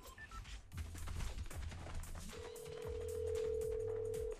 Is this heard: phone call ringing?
yes